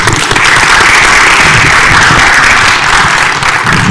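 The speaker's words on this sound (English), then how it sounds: "So let's start with a round of applause." A loud, full round of audience clapping greets an all-women panel at a conference session, many hands applauding close and steady with no letup.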